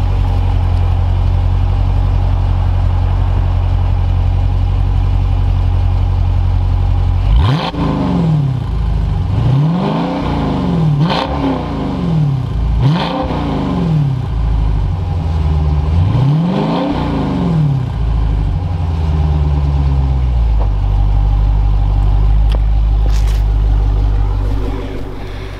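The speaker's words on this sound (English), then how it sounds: "I'll rev the engine a little bit so you can hear some of that V8 music" A 2018 Dodge Challenger 392 Hemi Scat Pack V8 idles with a deep rumble, then revs in four or five sharp rising and falling bursts before settling back to idle, loud and close with no talk.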